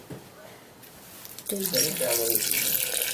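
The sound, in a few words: water being poured in for blending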